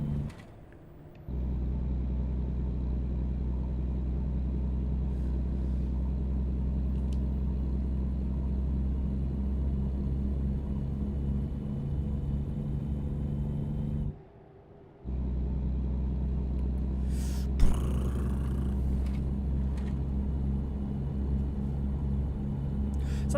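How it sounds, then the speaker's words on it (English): A steady, low truck engine drone rumbles on continuously, briefly dropping out twice, with a faint click and a short rise in noise near the end, in the video game American Truck Simulator. "The engine sound."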